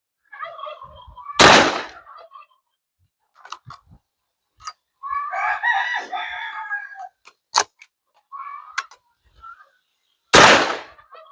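Black powder firearm fired at an outdoor range, two loud sharp reports about nine seconds apart, with scattered voices and chatter between them.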